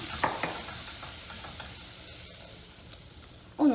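Flour roasts in melted butter in a pan while being stirred, giving a continuous sizzle with soft scraping strokes, ending in a brief louder clatter of utensil on pan.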